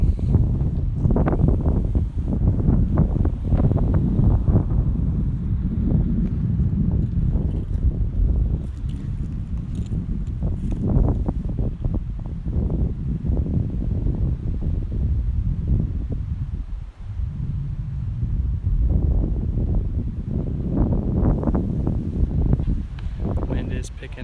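Gusty wind buffeting the microphone on an outdoor disc golf course, low rumbling bursts rising and falling throughout, with commentary heard over it.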